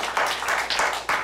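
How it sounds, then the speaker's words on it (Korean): A church congregation claps at a twelfth-anniversary thanksgiving service, a brief, dense burst of applause with uneven pulses of louder clapping. "우리 다 같이 한번 박수로 크게 경례해 주시기 바랍니다"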